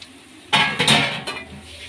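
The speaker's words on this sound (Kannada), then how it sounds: "ಈಗ ಇದಕ್ಕೆ ಕೊಬ್ಬರಿ ತುರಿ ಹಾಕ್ಕೊಳ್ಳೋಣ." Grated coconut lands in a pan of raw mango chitranna, a short scraping rustle and clatter of a spoon against the metal pan, close and brief, with no talking.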